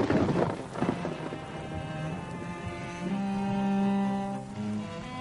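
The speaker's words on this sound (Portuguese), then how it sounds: "A chuva leva tudo conforme vai descendo em todas as direções" Heavy rain pours down on a tepui plateau with rolling thunder, a dense steady hiss of downpour over deep rumbles, with a low droning tone rising near the end and no voices.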